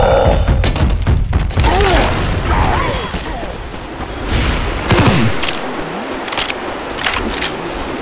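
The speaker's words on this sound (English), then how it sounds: "Throwing a pipe bomb." A pipe bomb explosion in the zombie video game Left 4 Dead 2, a loud burst early on followed by rumbling debris, chaotic game noise and voices over the remaining seconds.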